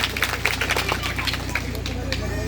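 A crowd at a village stage program claps loudly, a dense wash of applause with crowd murmur and an electrical hum from the sound system running underneath.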